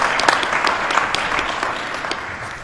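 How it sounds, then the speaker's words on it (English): Audience at a community reconstruction meeting claps steadily for a senator, a brief, even burst of applause with a few sharper individual claps standing out. "let's give a round of applause to Senator Bonacic"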